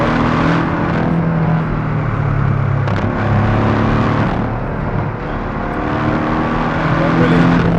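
A 2018 Porsche Cayman 718 GTS pulls hard in third gear, a loud sustained engine drone with rising harmonics heard from the cabin, a brief shift-like break near three seconds, and a voice speaking over it.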